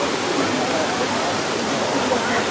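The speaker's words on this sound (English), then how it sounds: "That's the stream." A stream rushing over the rocks at Sliding Rock, North Carolina, a natural water slide, makes a steady, close, broadband wash of water with no letup and no voices.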